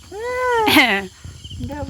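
A kitten lets out one clear, rising-then-falling meow, close and fairly loud, followed by a shorter, softer second mew.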